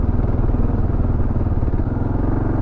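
A 2022 Kawasaki KLR 650 adventure motorcycle lugs hard in first gear up loose, uneven off-road terrain, its single-cylinder engine thumping in a loud, steady low chug close to the rider.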